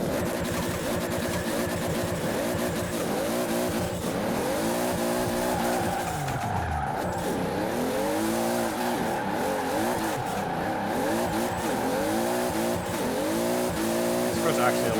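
A Toyota Supra MK3 (A70) drift build on race tires drives in Forza Horizon, engine revving hard with sweeping pitch rises and falls as the rear slides and tires squeal, loud and continuous throughout.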